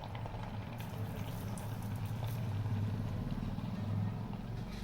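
Oil heating in a pan for frying khoya gulab jamun, a quiet steady low rumble and faint simmering hiss throughout, with no talking.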